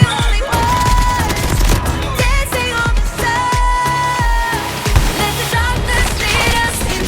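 Shotgun video game gunfire, a dense run of sharp shots and impacts over a steady game soundtrack with sustained tones, loud and continuous throughout.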